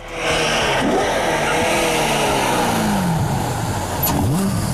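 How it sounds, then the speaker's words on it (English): A loud naturally aspirated 385-horsepower V8 engine revs continuously, its pitch sweeping up and down through several surges, close and dominating, with a faint high whine near the end. "the sound it makes from that naturally aspirated V8 is otherworldly"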